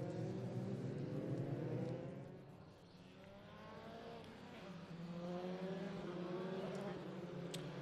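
Formula 3 race cars sweep past on a circuit in the FIA F3 European Championship, engines rising and falling in pitch as they go by at moderate distance, with faint commentary beneath.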